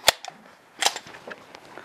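FNS-40 pistol with a snap cap loaded, producing a sharp metallic click at the start, then a second clack with a few lighter mechanical clicks and rattles close up.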